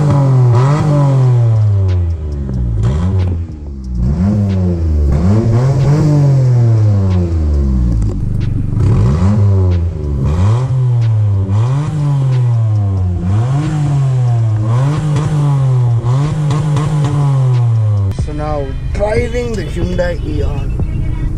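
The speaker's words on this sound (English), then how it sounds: "I'll just rev the engine up and show you guys what I mean." A Hyundai Eon with a loud, holed custom exhaust revs repeatedly in a steady cycle of rising and falling engine pitch, close and loud, with a few pops toward the end.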